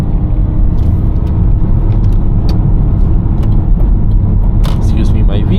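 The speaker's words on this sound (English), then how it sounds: "since we're in a BMW and it's rear wheel drive." A BMW E39 523i rear-wheel-drive saloon on the road, heard from inside as a loud, steady engine and tyre rumble with faint rattles and clicks throughout and speech over it.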